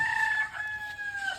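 A single drawn-out rooster crow, close and clear, most likely a person's voice imitating the cock-a-doodle-doo of a chicken.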